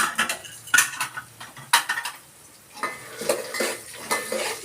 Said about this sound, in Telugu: ఇప్పుడు ఒక కప్పు పల్లీలు వేసుకుంటున్నాను మొత్తము ఇటు చూపి ఇదిగోండి పల్లీలు బాగా వేగాలి